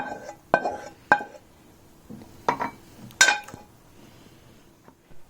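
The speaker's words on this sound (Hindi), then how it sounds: "वेजिटेबल्स को एक बोल में निकाल देंगे।" Cooked vegetables are scooped from a pan into a bowl: several sharp metallic clinks and scrapes of a spoon against cookware, spaced irregularly with quiet gaps between them.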